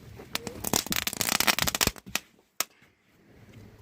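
Small firecrackers with lit fuses thrown outdoors, a dense burst of sharp crackling pops that fades into a few scattered snaps and a final isolated bang.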